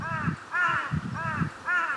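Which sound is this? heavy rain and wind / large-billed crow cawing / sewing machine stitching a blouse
large-billed crow cawing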